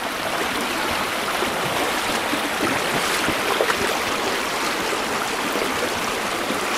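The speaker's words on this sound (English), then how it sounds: "The old river is slippery, difficult to keep it steady." A small river on a nature reserve in Cooildarry on the Isle of Man rushes steadily over its bed, a close, loud and even wash of flowing water with no break and no voices.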